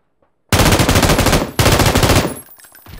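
Sustained automatic gunfire in the PUBG battle game roars loud and close in two long bursts of rapid shots, separated by a brief gap, then trails off into echo.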